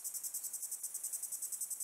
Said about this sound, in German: Die Zikaden rufen in der Hitze.